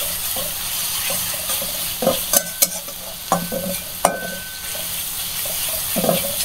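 Onions frying and being stirred in a pan for khichuri: steady sizzle close by, with a few sharp scrapes and clinks of the spoon against the pan at irregular intervals.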